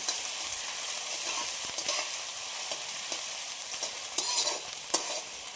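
Finely chopped onion frying in a pan for a masala matar paneer, a steady close sizzle with occasional scraping stirs and light clicks of the spoon against the pan.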